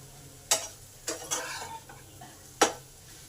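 Eggplant pieces stirred in a pan for a Bengali bata fish curry, with a few sharp utensil scrapes and clatters over a soft, low sizzle; close and quiet with no talk.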